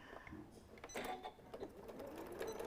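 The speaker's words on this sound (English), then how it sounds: "Back stitch at the end too." A sewing machine back stitches the end of a quarter-inch seam on a stuffed fabric nativity figure, a short quiet burst of rapid mechanical needle clatter with brief pauses and stops.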